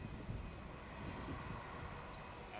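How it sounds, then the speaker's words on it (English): A Qatar Airways Boeing 777-300ER arriving from Doha at Melbourne Airport, its engines a faint, distant, steady roar with no other sounds over it. "Qatari 904 arriving in from Doha"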